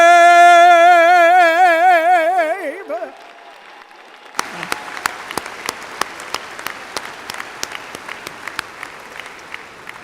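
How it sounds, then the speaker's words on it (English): At the end of the national anthem at a Metropolitan Community College-Kansas City commencement ceremony, a sustained sung note fades to a hush, then scattered audience claps begin and build into loose, uneven applause. "Let's give Ms. Nottingham another round of applause."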